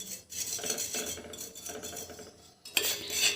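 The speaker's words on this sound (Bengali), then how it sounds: "ভালো করে কিন্তু মিশিয়ে নিচ্ছি" A spoon scrapes and clinks against a small bowl while mustard oil is stirred into a homemade hair remedy, giving close, busy rhythmic tapping and scraping.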